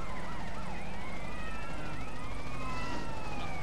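Police car siren in GTA San Andreas, wailing and sweeping up and down steadily and loudly for the whole stretch over a low rumble of engine and street noise, with no talking.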